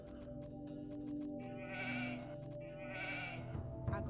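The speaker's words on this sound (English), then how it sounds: "don't kill too many sheep at once" Sheep in Age of Empires II bleat twice in quick succession, a pair of short, wavering game bleats over soft background game sounds and faint clicks, fairly quiet overall.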